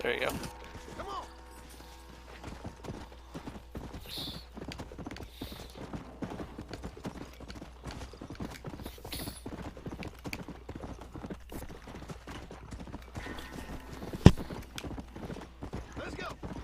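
Horse hooves clip-clopping in the Western video game Red Dead Redemption, a steady rhythmic trot across the whole stretch with a player talking over it and one sharp crack near the end.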